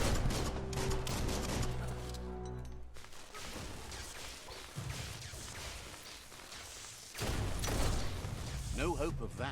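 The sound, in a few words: weapon shooting enemies in the video game Biomutant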